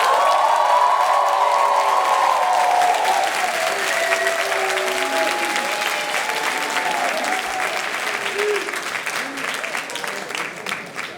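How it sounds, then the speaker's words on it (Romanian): A warm round of applause from an audience at a debate competition grand final. Dense clapping is loud at the start and fades slowly over about eleven seconds, with cheering voices mixed in. "vă rugăm să acordați un rând călduros de aplauze și pentru ei"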